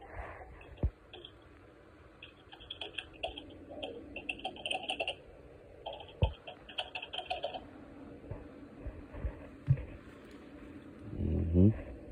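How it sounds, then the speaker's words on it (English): Keys on a computer keyboard clatter in irregular bursts of quick clicks, fairly close but moderate in volume, with occasional louder thumps and a voice speaking briefly. "Y'all hear that typing, right?"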